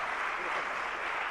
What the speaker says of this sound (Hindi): जरा जोरदार ताली बजाइएगा